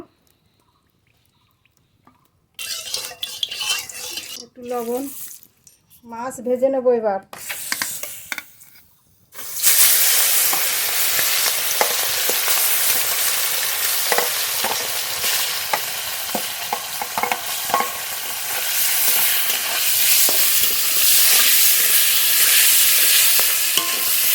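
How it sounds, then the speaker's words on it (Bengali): Mustard oil in a hot kadai on a lit stove, quiet at first with a few knocks and squeaks, then a loud, steady sizzle with crackles that continues to the end. "কড়াইও গরম হয়ে গেছে এবার সর্ষের তেল দেবো"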